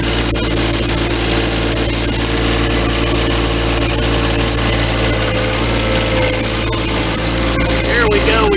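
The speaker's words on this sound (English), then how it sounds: "Driving this tractor." A new John Deere 4x4 tractor's engine runs steadily and loudly at close range, a constant droning hum with no pauses and faint talk at times.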